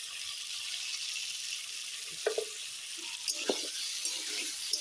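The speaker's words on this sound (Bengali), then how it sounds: "আলুটা সুন্দর লাল লাল করে ভেজে নেব" Potatoes frying in oil with salt and turmeric for a broccoli dish, a steady soft sizzle with a few brief clinks and stirring knocks partway through, no voices.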